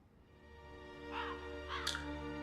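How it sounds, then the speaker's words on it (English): A crow or raven caws twice in quick succession in the Kingdom Hearts 2 video game, harsh and fairly clear over a sustained, droning musical background. "it's a crow or a raven"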